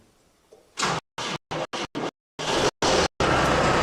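A tractor engine cranks in several short, loud bursts with abrupt gaps between them after a cold night, then catches and runs roughly.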